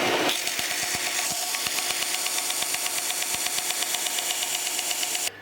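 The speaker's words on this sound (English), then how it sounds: "So then we just go and sand this end." The end of a small wooden mitre joint for a miniature house is sanded, a steady buzzing scrape with fast, regular ticking strokes that stops abruptly at the end.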